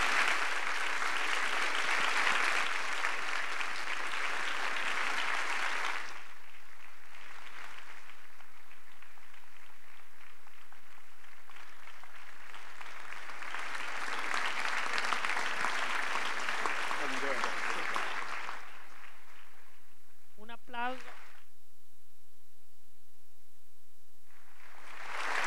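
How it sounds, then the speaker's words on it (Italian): Sustained audience applause for Gherardo Colombo at a public talk. It comes in two broad waves separated by a quieter lull, and a voice is briefly heard near the end. "Un grandissimo applauso per Gherardo Colombo."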